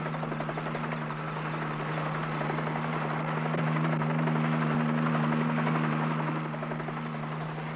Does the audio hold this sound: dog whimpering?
no